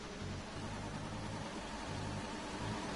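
Racing car engine in an F1-style video game, racing at the Azerbaijan track, drones steadily at high revs with small pitch steps that suggest gear shifts, heard alone and fairly quiet for about three seconds.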